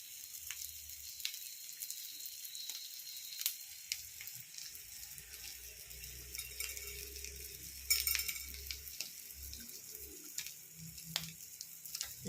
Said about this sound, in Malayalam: പരവ വറുത്തത് കണ്ടോ